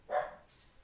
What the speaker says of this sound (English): That's the dog wanting to come back in.